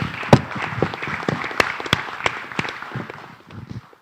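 Scattered applause from a forum audience: sparse, uneven claps with a few sharper individual hits, moderately near, thinning out toward the end.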